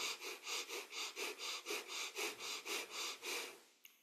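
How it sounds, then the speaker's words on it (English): Breath of fire, a rapid yoga breathing exercise: about fourteen quick, evenly spaced forceful nasal exhalations in a steady rhythm, close and clear, with no talk. "Breath of fire."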